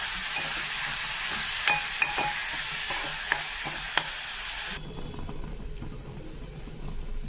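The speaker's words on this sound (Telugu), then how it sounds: "ఇప్పుడు ఇందులో మనం ఇందాక పేస్ట్ పెట్టుకున్న ఉల్లిపాయ, పల్లీలు, నువ్వుల పేస్ట్ వేసి బాగా వేగనివ్వాలి" Onion, peanut and sesame paste frying in a pan gives a dense, steady sizzle broken by several sharp spoon clinks, then drops to a quieter, duller hiss near the end.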